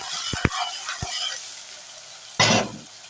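Tomato curry is stirred in a pan, with a few sharp utensil knocks against the metal over a soft simmering hiss, ending in a brief louder rush of sizzle, close and without talk.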